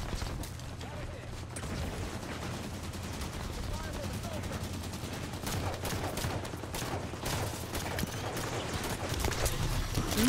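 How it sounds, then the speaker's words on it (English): Halo 5 Firefight gunfire from an enemy army, a dense clatter of rapid shots and bursts under constant game noise, with a person talking over it. "the entire, like, army of them just all decided to fire at me at once there"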